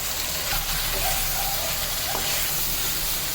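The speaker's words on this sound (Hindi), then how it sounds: "अब अदरक लहसुन डाल देंगे इसमें और फिर से भून लेंगे थोड़ा सा" Steady sizzling hiss of ginger and garlic frying with chicken and onion in a pan for chicken yakhni pulao, continuous and close, with faint clinks of stirring.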